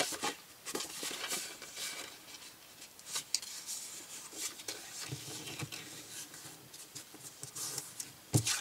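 Paper folds are creased for a pop-up wedding album, producing quiet repeated rubbing and scraping strokes with occasional sharp taps, close and alone.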